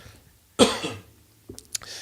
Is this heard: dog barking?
no